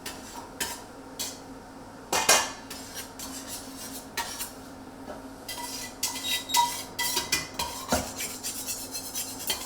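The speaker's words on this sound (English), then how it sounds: "Use a flat bottomed thing like a fish slice and just scrape that up." A flat fish slice scrapes the bottom of a pot of boiling water while deglazing for beef bourguignon, giving scattered metallic scrapes and clinks over a low bubbling bed, close and moderately loud, with no talk.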